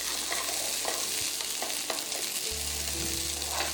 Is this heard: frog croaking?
no